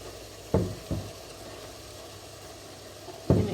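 Cuttlefish sizzles in a pan of cooked tomato and onion, a close steady hiss broken by a few sharp knocks and clatters from the pan and utensil.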